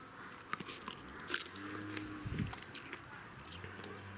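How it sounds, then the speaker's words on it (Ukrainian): A ripe kishmish grape bitten crisply, with a sharp crunch near the start and brief chewing after, close and fairly quiet with no talk. "солодюча і хромка"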